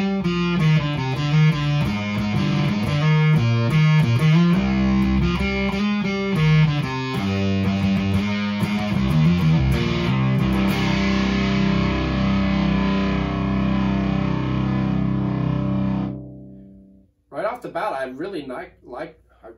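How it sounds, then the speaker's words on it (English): Electric guitar through an Onkel Amplification Death's Head fuzz pedal, set with all knobs at noon, plays loud distorted riffs and sustained chords, then cuts out before a brief final burst. "Let's hit our fuzz."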